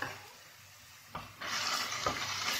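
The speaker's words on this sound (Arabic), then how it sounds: "وكنستمروا في التحريك" Onion, pepper, zucchini and carrots are stirred in a pan, a quiet scrape and clink giving way to a louder sizzling hiss as the vegetables are moved around, with no voices.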